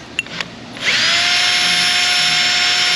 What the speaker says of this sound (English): Wire brush on a stick, on a drill.